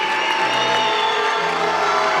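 A stadium crowd at a Legends Football League game cheers and roars steadily, a dense wash of voices at a constant level with no breaks.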